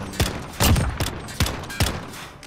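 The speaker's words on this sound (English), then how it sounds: "My god, that's an Uzi." Uzi submachine gun fire in an online shooter game, heard as four short separate bursts spread over a couple of seconds, loud and near, with no talk over them.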